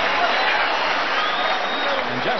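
A boxing crowd at a featherweight title fight applauding and cheering at the end of a round, a steady wash of clapping and crowd noise with a commentator talking over it.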